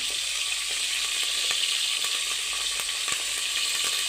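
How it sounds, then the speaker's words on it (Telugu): Curry leaves frying in hot oil in a pan, a steady bright sizzle with faint crackles and occasional soft clicks, close and continuous without any talking. "కరేపాకు కూడా వేసేసుకున్నామండి చూడండి కొద్దిగా వేగాయి"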